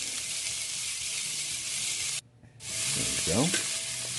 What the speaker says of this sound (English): I'll drop my garlic and onions in there, get them starting to sweat